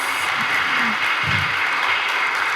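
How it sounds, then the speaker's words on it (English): Audience applause at a College of Pharmacy oath-taking ceremony, a dense, even wash of clapping across the short stretch with faint voices beneath it. "let's give another round of applause to our new Centralian pharmacist"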